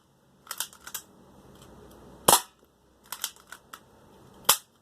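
BB gun shots ring out against a copper plate at an indoor range, a series of sharp cracks in small clusters with short pauses between, fairly close and without talk.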